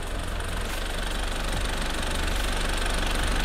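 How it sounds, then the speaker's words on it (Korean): A SsangYong G4 Rexton 2.2 diesel 4WD in an open engine bay idles steadily, a continuous low rumble with a faint knocking rhythm and no talk. "엔진 소리 일정하네요"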